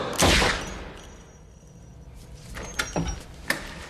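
Gunshots in a played film scene: one sharp loud crack at the start, then a quieter stretch followed by several shorter cracks, with no talk.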